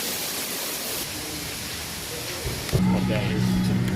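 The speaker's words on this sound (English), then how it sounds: "Another waterfall." Waterfall at Busch Gardens theme park, a steady hiss of falling water throughout, joined near the end by a louder rushing surge and a tonal hum.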